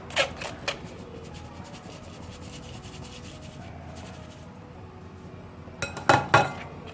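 Dry plum cake ingredients, including ground spices and dried powdered orange peel, stirred in a bowl: soft steady rubbing and scraping with light clinks of utensil on the bowl, louder bursts of clinking near the start and end.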